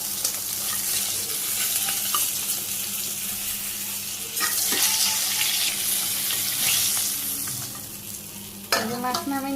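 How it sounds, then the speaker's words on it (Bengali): Fish pieces frying in hot oil in a village kitchen, a steady dense sizzle running throughout, close and loud, with a few utensil knocks near the end and no talking. "কয়েকটা মাছ নামানো হয়েছে, এগুলো ভাজি করা হয়ে গেল"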